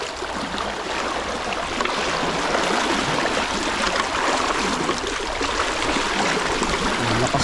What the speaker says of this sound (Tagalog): Malakas ang agos dito.